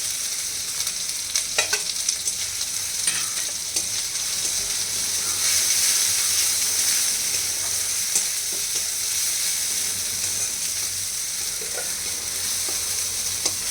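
Ground spices including turmeric, cumin, Kashmiri red chilli and homemade garam masala fry in a pan for Bengali aloo fulkopi, a steady close sizzle with scraping stirs and utensil taps throughout, no talking.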